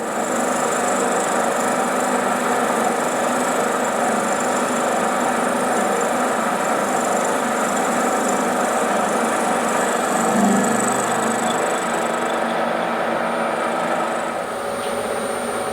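Harrison 12 inch swing lathe turning soft, unhardened metal, a steady continuous machining drone with a faint high whine, close and alone throughout.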